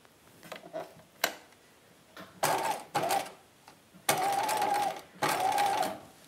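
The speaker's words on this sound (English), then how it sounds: "I'm gonna baste that pleat in place, taking out my pin as I go." Sewing machine basting pleats on a dress bodice, quiet clicks and handling noises first, then several short whirring stitching bursts separated by brief pauses, close and fairly soft.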